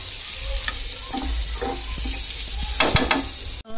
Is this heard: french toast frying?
yes